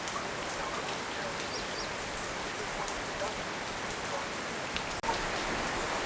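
Steady, dense rainfall pouring down without pause during flooding in Kruger, a constant hiss of drops drumming on surfaces, with faint bird calls in the background.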